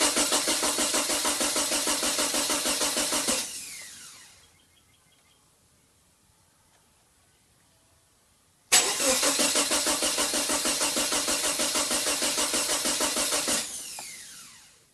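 A Subaru EA82T turbo engine cranks on the starter in two long bursts of rapid, rhythmic chugging, each about four to five seconds. A quiet pause separates them, and the engine does not catch.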